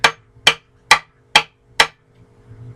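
A hammer strikes a go-devil five times in an even rhythm to seat its handle, each whack sharp, loud and close, with a quiet pause after the last blow.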